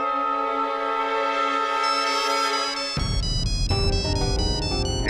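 A mobile phone ringtone plays loudly and close, a sustained synthetic tone that switches abruptly to a busier, bright melodic pattern partway through, with no talking over it.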